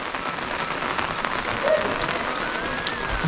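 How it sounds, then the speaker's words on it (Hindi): Light monsoon drizzle in the hills around a Mukteshwar homestay, a steady close hiss of fine rain with no talk. "चलिए आज बारिश में, रिमझिम बारिश, बहुत ही सुंदर लगते हैं पहाड़ मानसून में।"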